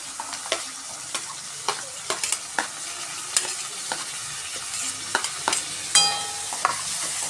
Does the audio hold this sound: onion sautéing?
yes